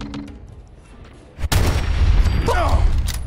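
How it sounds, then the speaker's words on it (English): Gunfire in Fallout 4 from an unseen sniper taking pot shots at a player in power armor: a sharp blast followed by a sustained loud rumbling barrage, near and heavy, with a brief whining tone mid-way. "Somebody's taking pot shots at me."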